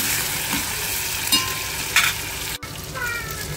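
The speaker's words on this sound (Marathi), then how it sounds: "आपले मटकी आणि कांदा चांगला फ्राय होतोय" Moth beans and onion frying for misal, a continuous close sizzle with a few spoon scrapes and clinks against the pan, and a brief sharp dropout partway through.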